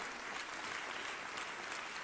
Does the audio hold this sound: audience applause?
yes